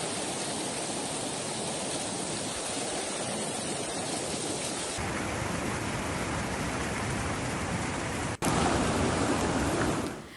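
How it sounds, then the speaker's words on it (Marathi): Steady, dense roar of heavy rain pouring down continuously in Himachal Pradesh, loud and enveloping, with a brief dip before it resumes. "हिमाचलमध्ये मोठ्या प्रमाणात पाऊस सध्या पडताना दिसतो"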